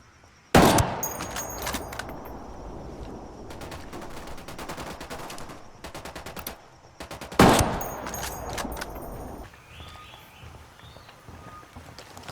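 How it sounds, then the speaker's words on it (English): Gunshots in the tactical shooter Ghost Recon Wildlands: two loud, sharp reports several seconds apart, each followed by a ringing tail, over a steady bed of in-game ambience and faint bird calls. "Taking the shot."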